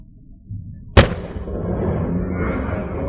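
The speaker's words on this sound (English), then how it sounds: "this is your classic explosion" A homemade baking soda and vinegar bomb bursts with a single sharp, loud pop, followed by a sustained hissing fizz as the foam sprays out, with no talking.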